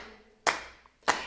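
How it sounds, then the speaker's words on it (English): Two crisp hand claps land about half a second apart, fairly quiet and alone in a children's sing-along, each a sharp isolated smack. "Listen to everybody clapping, clap hands together."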